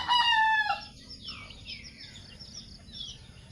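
A red junglefowl rooster crows loudly nearby in one long, rising-and-falling call, followed by softer bird chatter and chirps in the background.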